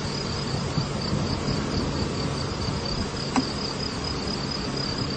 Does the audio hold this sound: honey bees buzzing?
yes